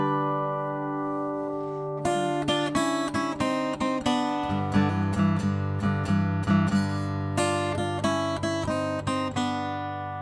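Acoustic guitar in open G tuning (D G D G B D) plays a bluesy riff, loud and alone, opening with a few sustained notes before steady rhythmic picked strums and repeated figures.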